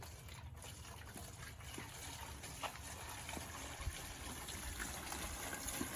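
Water pours steadily from a container onto potted garden plants, a continuous close trickling and splashing with no talk.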